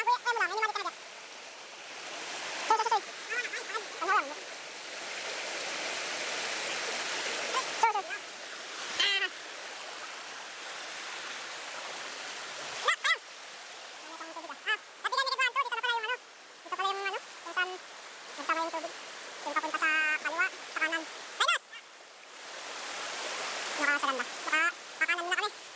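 Steady broadband rush of a mountain waterfall and flowing stream dominates throughout, with people talking and calling out intermittently over the constant water noise.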